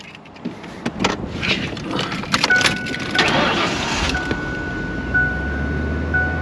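A V8 Ford Explorer starts up: a brief crank catches into a running engine that settles to a steady idle, close by with light rattles and a warning chime tone.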